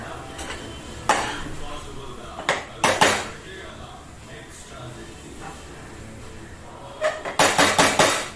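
Rice being mixed with lemon juice, heard as a spoon or utensil scraping and clinking against a pot in scattered bursts, with a quick run of knocks near the end and a quiet background between.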